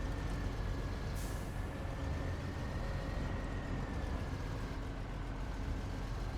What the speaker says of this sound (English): The Caterpillar will get through it just fine with its massive wheels.